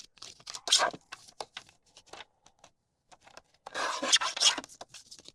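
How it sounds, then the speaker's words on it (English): Scissors trim excess paper off a card border piece in short rasping snips and scrapes, two denser bursts of cutting separated by lighter scattered crinkles, close and quiet. "I'm next going to trim the little extra bits of paper that I have on this border piece."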